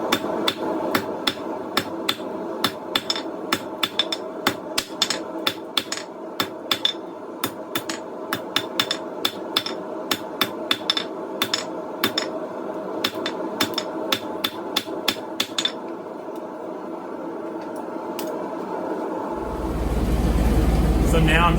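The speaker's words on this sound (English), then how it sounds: "I'm just going to begin flattening out the steel to a basic shape" Rapid, ringing hammer blows strike hot coil-spring steel being flattened into a knife blade, dozens of sharp metallic hits in quick rhythm that stop, followed by a low, steady roar.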